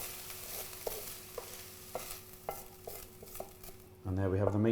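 A spoon stirs and scrapes cooked minced meat for a homemade cottage pie, with soft repeated scoops and light clinks in a pan, then a louder sizzle near the end.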